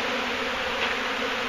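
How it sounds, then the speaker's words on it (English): Honey bees swarm around a rotted wooden trailer that housed their hives, a dense, steady buzzing drone close to the microphone with no break. "And there's a lot of bees."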